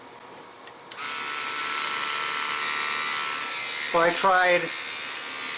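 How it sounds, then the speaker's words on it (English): A Dremel rotary tool grinds a 3D-printed Godzilla model, starting after a second as a steady, close high whine that runs to the end; a voice speaks briefly near the end. "I thought I could get away with it with the Dremel tool."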